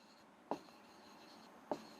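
Chalk or marker writing a chemistry word equation on a classroom board, heard as two brief tapping strokes about a second apart over a quiet background hum.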